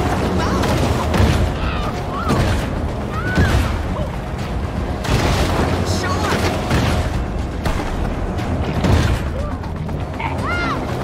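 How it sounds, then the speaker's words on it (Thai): Gunfire aimed at a shark in the video game Maneater, with repeated shots and booming bursts over about eleven seconds, loud and dense amid splashing game sounds, with someone talking excitedly over it. "มันยิงอย่างแรง"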